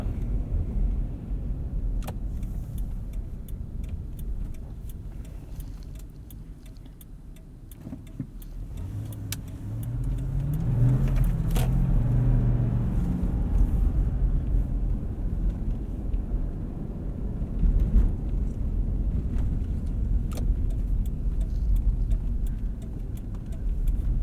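Lexus GX 460 SUV on Cooper Discoverer AT3 4S all-terrain tires driven hard on snow, a low rumbling engine and tire roar that swells midway, with occasional knocks, heard from inside the cabin.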